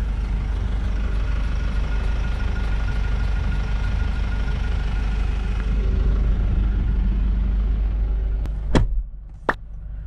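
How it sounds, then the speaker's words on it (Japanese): A Mitsubishi Delica D:5 diesel engine idles just after starting, a steady, close, continuous rumble that runs alone, with a couple of sharp clicks near the end. "エンジンのスタートボタン、ディーゼル音こんな感じです。"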